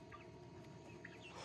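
Several chickens cluck and murmur in a grassy chicken yard on their first day out, with soft overlapping low clucks and a few brief higher calls, fairly close and steady throughout.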